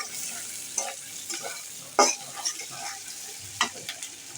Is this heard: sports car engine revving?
no